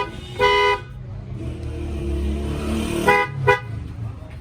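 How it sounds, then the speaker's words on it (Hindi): A Suzuki Cultus car's newly installed horn sounds in short honks, one near the start and two more close together later, over a low idling engine rumble. "ये जो हॉर्न इसमें इंस्टॉल किया वो बजा के चेक करते हैं"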